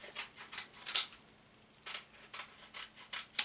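Scissors snip through paper raffle tickets in quick bursts of crisp close cuts, a pause midway, then another rapid run of snips.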